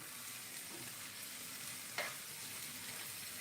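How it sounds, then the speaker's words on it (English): Steady oily sizzling of cabbage frying in a pan, with a brief clatter or stir partway through. "This is frying up good."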